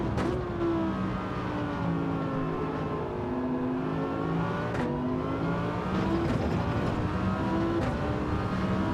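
Classic Mini fitted with nitrous racing a full ten-lap circuit in a video game: a steady, loud engine drone with rising and falling revs and gear changes, continuous throughout, with no talking.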